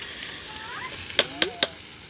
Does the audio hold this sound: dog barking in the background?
no